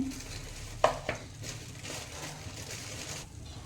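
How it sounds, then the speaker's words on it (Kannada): Poppy seeds added to spices frying for vangi bath, two quick knocks of a spoon on the pan followed by a low steady sizzle and faint stirring, quiet and close. "ಈಗ ಇದಕ್ಕೆ ನಾನೊಂದು ಅರ್ಧ ಸ್ಪೂನಷ್ಟು ಗಸಗಸೆ ಹಾಕ್ತೀನಿ"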